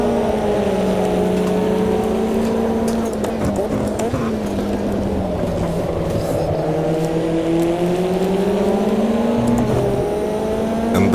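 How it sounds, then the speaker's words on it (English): Race car tires on a Metalmoro MRX P3 in AMS2 at Curitiba, heard as a continuous loud blend of tire noise and engine drone throughout a lap, with engine pitch rising and falling through gear changes and corners. "I tried to not speak too much over it so we can hear the tires"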